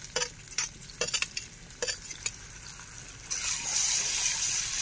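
Ginger being stirred in a frying pan for fenugreek chicken curry, a series of scraping spatula strokes over a low sizzle that swells into a loud, steady hiss near the end.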